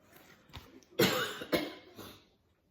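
A few harsh coughs close by, with a strong burst in the middle followed by a couple of smaller ones, then quiet.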